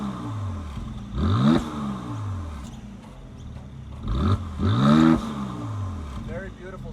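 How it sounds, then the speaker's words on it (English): A 2020 Mercedes-AMG GLC43 SUV's exhaust blips in two sharp revs, each rising quickly then falling back to a steady idle, heard nearby with a voice talking over parts of it. "let's listen to the symphony of this exhaust system,"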